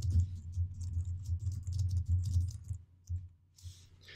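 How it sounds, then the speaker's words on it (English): Keys on a computer keyboard, including the arrow keys, click in a quick, steady run of close, light taps that slow and thin out near the end, with no talk. "I'm using my up and down arrows on my keyboard."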